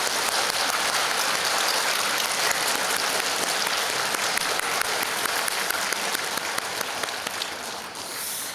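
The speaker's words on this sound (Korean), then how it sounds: "우리 박수로 격려해 주시길 부탁하겠습니다" A church congregation at a Wednesday prayer service claps steadily for its Hallelujah choir, a dense, even wash of applause that holds throughout and thins slightly at the very end.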